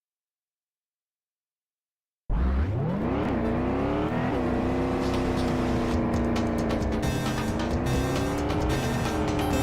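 A 1995 Ford Mustang Cobra engine in a racing video game: silence, then a sudden loud V8 roar that climbs in pitch with repeated rev rises and gear shifts, holding strong to the end, with one brief exclamation from a voice.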